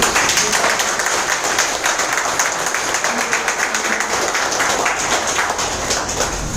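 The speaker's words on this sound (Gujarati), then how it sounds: "જોરદાર તાળી." Loud, sustained applause from a crowd at a business seminar in an Ahmedabad hotel, dense, even clapping that continues steadily throughout.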